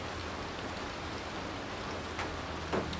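Steady rain falls outdoors during a deer hunt at Cape Royale, an even hiss of drops with a couple of louder nearby drips, and no voices.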